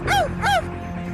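A woman imitates a dog barking with two quick, yelping woofs close to the mic, followed by a brief quiet room tone.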